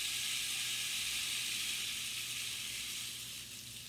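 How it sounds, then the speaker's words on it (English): A rain stick is being played, making a soft, steady hiss of trickling pellets like falling rain that gradually fades toward the end. "This is called a rain stick. Now it's called a rain stick because it sounds like rain."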